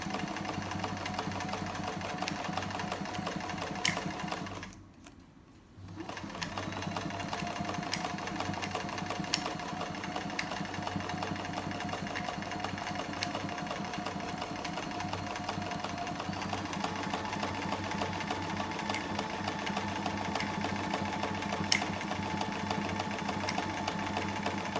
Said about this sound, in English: The machine should be pulling the fabric through,